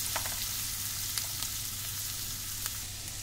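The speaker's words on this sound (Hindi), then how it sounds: "हमारा प्याज भून रहा है" Onions frying in a pan for rajma curry, a steady close sizzle with a few faint crackles and pops and no talking.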